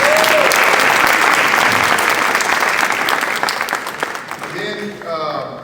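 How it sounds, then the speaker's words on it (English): Round of applause from an event audience for sponsors, strong and dense at first, then thinning and fading out as a voice begins speaking at the end. "Let's give a nice round of applause to all the sponsors for getting it."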